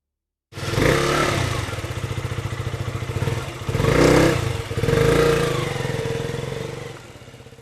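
A motorcycle engine revs loudly and close by, surging twice as the bike pulls away, with a steady mid-pitched engine drone throughout and no talking.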